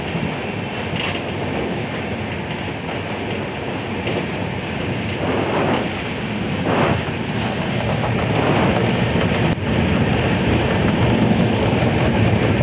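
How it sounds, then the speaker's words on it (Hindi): Jaipur Intercity Express (12991) running on rails, heard from inside an empty coach: a continuous rumbling roll with rhythmic clickety-clack of the wheels that grows louder toward the end, with no talking. "ये है हमारी ट्रेन"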